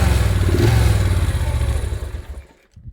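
A Moto Guzzi V65 police motorcycle with a 650 engine, under restoration and running slightly rich on one side, idles close by with a lumpy, pulsing beat for about two seconds before cutting out.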